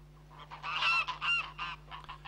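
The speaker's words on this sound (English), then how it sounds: "Fine flocks of geese and a pet of a gander feeding out of a pot are rare sights nowadays anywhere in rural Ireland" Geese honk in a flock in rural County Fermanagh, Ireland, a close run of harsh nasal calls in quick irregular bursts over a low steady hum.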